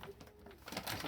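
A bato bato dove, a small pet bird kept in a cage, coos in a soft, low, steady call, with faint background noise around it and no talk over it.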